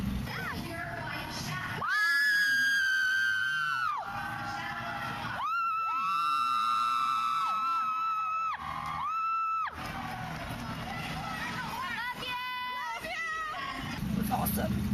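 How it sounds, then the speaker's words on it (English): Friends scream and cheer from a crowd at a hall cosplay contest fashion show, with long sustained high-pitched shrieks in several loud bursts over crowd noise. "I heard my friends screaming."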